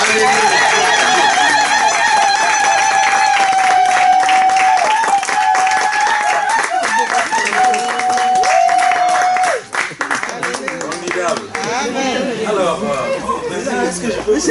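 A church congregation claps and cheers loudly in sustained applause, with voices calling out over the clapping and a tone drawn out by someone shouting.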